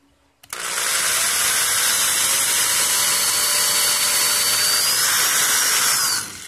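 A high-pitched power drill whines steadily for about six seconds, drilling a hole in a Scrabble tile, starting abruptly and running at a constant, close, loud pitch before stopping.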